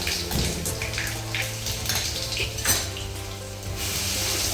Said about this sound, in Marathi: आलं लसूण पेस्ट घालायची